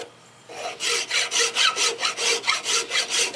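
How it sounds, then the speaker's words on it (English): A chainsaw file rasps rhythmically against the nocks of an Osage orange selfbow in about a dozen steady back-and-forth strokes, close up, after a brief quiet start. "When I clean them up, I like to use a chainsaw file."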